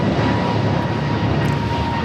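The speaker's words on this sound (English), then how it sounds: "This is American Airlines 2311 taking off to Miami, Florida on the A321neo" American Airlines Airbus A321neo departing LAX for Miami, a loud, steady jet engine roar with a thin whine running through it, brief and unbroken, with no voices.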